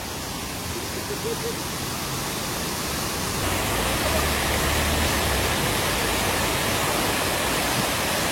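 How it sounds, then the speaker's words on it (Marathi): A monsoon waterfall pours down from a high mountainside at Tamhini Ghat just after rain, filling the air with a loud, constant broadband roar that swells slightly midway. "पाणी ना उंच डोंगरातून ना कोसळत आहे आणि जस्ट ना पाऊस पडून गेल्यामुळे ना बऱ्यापैकी पाणी फ्लो होत आहे"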